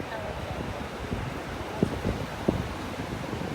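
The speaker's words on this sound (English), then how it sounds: "listening to the waves" Ocean waves break steadily over a beach sandbar in North Naples, Florida, a continuous washing roar blended with wind buffeting the microphone and a few sharper splashes.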